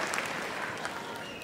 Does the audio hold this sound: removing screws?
no